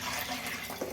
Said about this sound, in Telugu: చింతపండు గుజ్జు తీసి పెట్టుకున్న వాటర్ ఇందులో పోసేసుకుందాం.